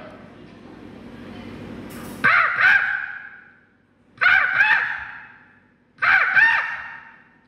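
A performer's voice imitates an angry crow at a mimicry competition, giving three harsh, drawn-out caws spaced a couple of seconds apart, loud and close, after a brief stretch of murmuring crowd noise.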